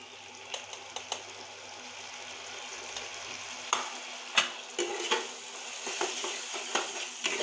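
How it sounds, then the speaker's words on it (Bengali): Spice paste with turmeric and chili powder being stirred and fried in a pan for a fish curry, with a soft steady sizzle broken by repeated scraping clicks of a spoon against the pan. "এটা আমি এখন সুন্দর করে কষিয়ে নিব।"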